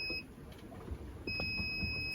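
A radar proximity alarm on a 37-foot vintage yawl sailing alone in the Pacific, set to trigger at 3 nautical miles, sounds as steady high electronic beeping that drops out briefly and then resumes, over low cabin and water noise.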